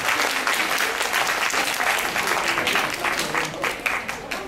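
Audience applause at a televised talent show, dense sustained clapping from a crowd, loud and even throughout before tapering slightly near the end.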